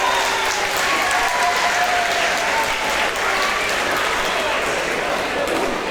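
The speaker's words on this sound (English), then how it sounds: "And this crowd here giving a round of applause for both men." Crowd at a white collar boxing event in the Norwich, Norfolk area applauding both boxers, a sustained, even wash of many hands clapping at steady loudness, with a commentator's voice faintly underneath.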